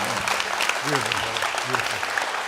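A crowd claps steadily for actor Danny Trejo, continuous and fairly close, while a voice talks over the applause.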